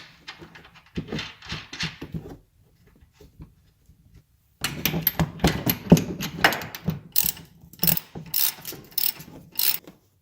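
A ratchet clicks in quick bursts while camber bolts are tightened on a 2001 Ford Ranger, with short pauses and some louder metallic clanks toward the end.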